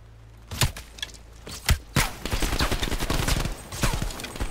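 Shotgun blasts from Call of Duty Cold War gameplay ring out as two loud, sharp reports about a second apart, followed by a rapid burst of further gunfire and clatter.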